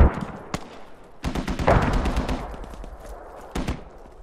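Gunfire in the tactical shooter game Squad, urban house-to-house fighting in Al Basrah: sharp rifle shots and short bursts crack out repeatedly, loud and close, with an explosive blast and scattered reports trailing off.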